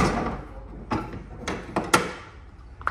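An Alu-Cab canopy camper door on a vehicle is handled and shut, with a few sharp knocks and latch clunks close by.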